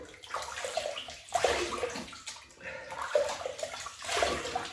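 Water splashes in a filled sink as a face is wetted before shaving, coming in three soft, close sloshing waves with quiet gaps between.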